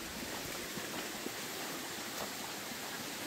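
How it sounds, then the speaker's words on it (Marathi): A small stream trickling along a mountain path in the Konkan, a steady, soft hiss of flowing water with no clear variation, fairly faint and continuous. "हा बघा अजून एक छोटासा झरा इथे आहे"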